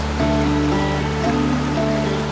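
River water running over shallow ripples, a steady close rushing wash that stays even throughout with no voices.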